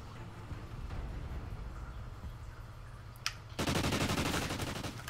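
Gunfire in a Call of Duty Ghosts online match: quiet game ambience, then a loud, dense burst of shooting kicks in and keeps going to the end.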